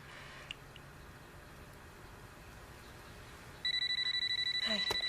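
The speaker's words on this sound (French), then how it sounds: "Le téléphone n'a pas sonné tout l'après-midi, puis là, juste au bon moment." A telephone bell starts ringing after a few seconds of quiet room tone, a loud, steady repeating trill that keeps going to the end, alone with no talk over it.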